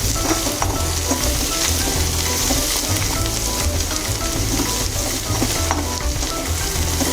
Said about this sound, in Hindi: इसको हम अच्छी तरह भून लेंगे